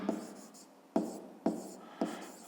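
Pen strokes or taps sound on paper as a math answer is written by hand, giving four short, soft, close-up ticks spaced roughly half a second apart over quiet room noise.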